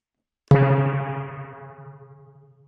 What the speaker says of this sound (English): That's a real spring reverb.